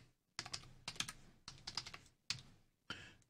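Typing gdb commands on a computer keyboard: close, quiet bursts of rapid key clicks in several short runs separated by brief pauses, with no voice.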